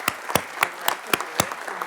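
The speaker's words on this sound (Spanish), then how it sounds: "quisiera pedirles a ustedes un aplauso para ella en esta oportunidad." Audience applause at a press-freedom committee session: six sharp, evenly spaced bursts of clapping, fairly close, with no voices over them.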